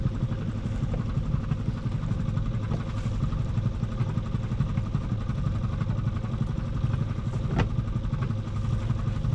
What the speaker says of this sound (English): I just started the engine right before I put the camera on